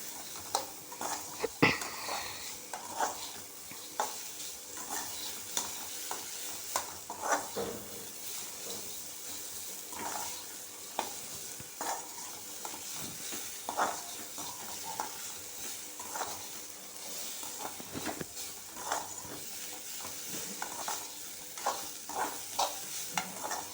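Ridge gourd peel being sautéed in a pan for chutney: a steady soft sizzle through the whole stretch, with frequent scraping and stirring clicks from a utensil against the pan.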